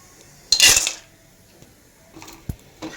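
Dabeli peanuts tipped into hot oil in a pan give a short rattling, clattering burst, followed by quieter ticks and a couple of sharp clicks as the nuts settle.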